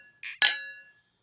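Two quick glass clinks from a green tea shot toast, a light tap followed by a brighter ringing chime that fades out, with no talk over it.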